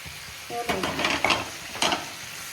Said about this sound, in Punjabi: ਕਿੰਨੇ ਸੋਹਣੇ ਟਿੰਡੇ ਭੁੱਜੇ ਜਾ ਰਹੇ ਨੇ ਆਪਣੇ ਦੇਖੋ